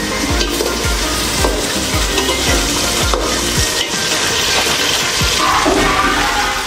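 Onions fry loudly for mutton biryani, a dense close sizzle with rhythmic scraping strokes of a ladle stirring through the pan, with no speech.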